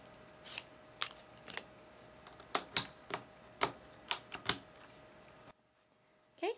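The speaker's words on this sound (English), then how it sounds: "get your plastic keycap puller, lock it in place, and gently pull upwards" Keycaps pulled one by one off a Corsair K70 keyboard with a plastic keycap puller, a series of sharp plastic clicks and snaps, close and distinct, ending in brief silence.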